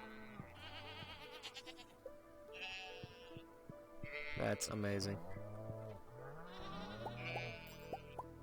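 Sheep bleat repeatedly in Stardew Valley, several clear tonal calls from a farm animal pen arriving one after another, alongside game music and someone talking.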